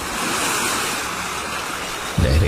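Ocean waves surge and wash steadily as a broad, continuous roar of surf, with a louder swell breaking near the end; no voices.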